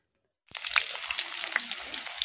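Mustard oil hits a hot kadhai set over a fire-lit chulha, bursting into a loud, steady crackling sizzle after a moment of silence and continuing close up with scattered pops.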